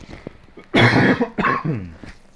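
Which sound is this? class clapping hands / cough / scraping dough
cough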